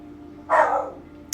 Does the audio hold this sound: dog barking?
yes